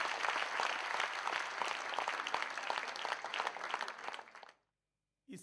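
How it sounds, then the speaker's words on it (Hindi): An audience applauds for film director Rajkumar Hirani, a thick wash of many hands clapping steadily for over four seconds, then cutting abruptly to silence before a brief burst returns at the end. "एक बार तालियां राजकुमार हिरानी के लिए।"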